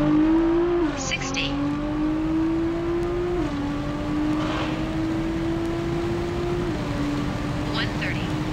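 A Nissan R35 GTR with big turbos on a stock engine accelerates from 60 to 130, a loud steady engine drone that rises through the gears with brief dips at each shift, a voice talking faintly over it.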